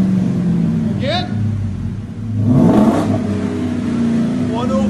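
Car exhaust revving through Borla X5 mufflers joined by a double helix, a steady low rumble that swells into one strong rev near the middle, with people talking over it.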